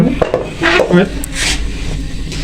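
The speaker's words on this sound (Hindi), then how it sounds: "कढ़ाई ऊपर रख देंगे।" A metal kadhai set down on a home kitchen stove while cooking chicken, giving a short clunk and scrape close by, with soft kitchen clatter and voices around it.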